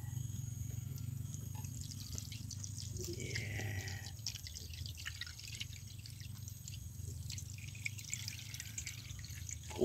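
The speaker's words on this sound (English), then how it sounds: "Filtering to our filter paper." Liquid slowly dripping and trickling through large filter paper during gold recovery from computer CPUs, faint and steady beside a low continuous hum.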